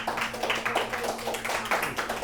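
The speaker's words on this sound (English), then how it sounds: "they're still clapping for you, Jeff" Audience clapping at a talk-show taping, a steady patter of many hands with light surges, heard at moderate distance over a faint steady hum.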